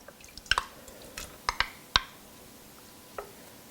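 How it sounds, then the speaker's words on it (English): Cherries dropped into a thickening cornstarch mixture in a pot for cherry cheesecake topping, giving a few soft wet plops and drips spread over a few seconds, close and quiet, with no talking. "I'm going to go ahead and put the cherries in at this time as well"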